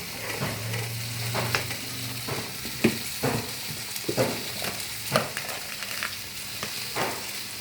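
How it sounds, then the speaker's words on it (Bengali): Paneer sizzling and being stirred in ghee for yakhni paneer, a steady close fry with repeated scraping stirs and soft clinks of the spoon against the pan, no voices. "এই ঘিটা দিয়েছি আমি এর মধ্যে, দিয়ে এটাকে আমি একটু সটে করছি হালকা হাতে"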